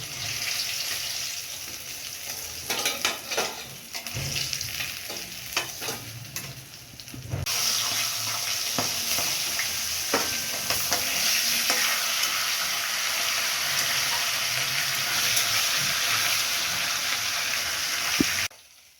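Catla fish heads fry in oil, giving a steady close sizzle. Stirring and scraping clatters come in the first half, then a louder, even frying hiss continues alone.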